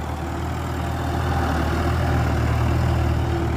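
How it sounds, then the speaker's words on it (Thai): Massey Ferguson MF440 tractor plowing soil with a front dozer blade, its diesel engine droning steadily and loudly with a constant low rumble throughout, no talking. "ตอนนี้กำลังไถด้วยรถไถแม็กซี่ฟอร์ดฟูชั่นครับ 440 ครับ"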